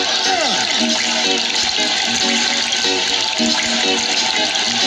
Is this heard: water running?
yes